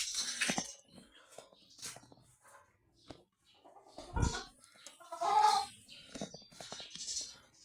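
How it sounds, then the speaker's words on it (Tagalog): Native chicken chicks peep in soft, high chirps scattered through a quiet outdoor scene, with brief clucks and low bumps nearby and a faint voice in the background. "mga sisiw natin dyan ay mga native"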